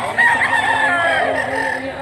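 Rooster crowing at close range, a single loud cock-a-doodle-doo stretched over two seconds, apparently a big spangled cock.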